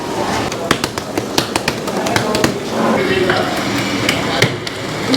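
Parotta dough is slapped and beaten at a busy street food stall, sharp irregular thumps and clacks repeating over a second or so, then continuing more loosely beneath steady crowd chatter and kitchen clatter.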